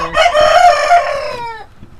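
A rooster crows loudly with a long, strained call, while chickens cluck close by underneath it.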